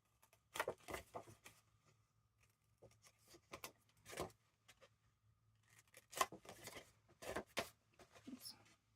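Scissors cut small notches into paper envelopes made from vintage book pages, giving a few quiet, crisp snips in short bursts separated by pauses, close and soft against a low hum.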